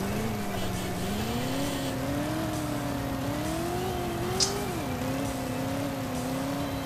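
A car engine in the Driver video game drones steadily and loudly throughout, its pitch rising and falling as the car revs, with one faint sharp tick near the end and no talking.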